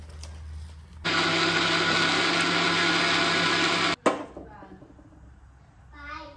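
A mixer grinder whirs loudly and steadily for about three seconds, grinding fresh coriander into a fine paste, then cuts off abruptly, leaving a quiet kitchen with faint background noise.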